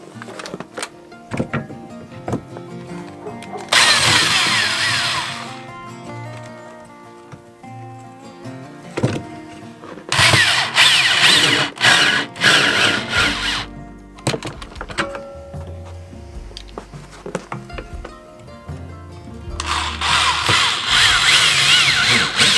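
A power drill fitted with a Robertson bit whines in three loud bursts as it drives screws into a homemade ice fishing jaw jacker, with thunks and handling noise in the pauses.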